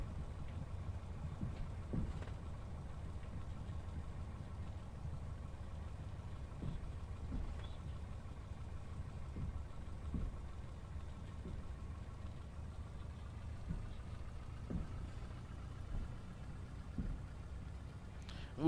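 A simulated Cessna 172 Skyhawk piston engine idles at Chicago Midway, a steady low drone with faint periodic thumps running throughout at moderate level, no voices over it.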